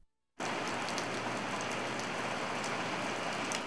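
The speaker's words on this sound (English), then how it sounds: "Who says it never rains in Southern California?" Steady rain falling in North Torrance, Southern California, a dense, even hiss of drops on surfaces that starts abruptly after a brief silence and continues at constant loudness.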